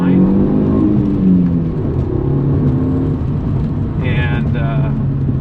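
A VW GTI MK4 accelerates with a steady, loud engine drone that rises in pitch and stays constant, recorded from inside the car in an industrial area, with no talk over it.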